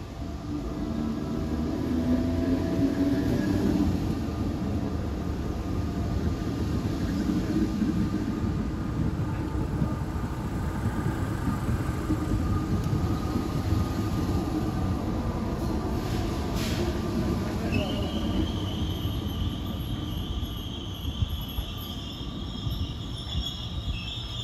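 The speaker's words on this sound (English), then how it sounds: "here we got a Class 8100 arriving" A Class 8100 electric train pulls into a station near Dublin with a steady, sustained rumble and hum throughout, a rising whine joining near the end, alone without talk.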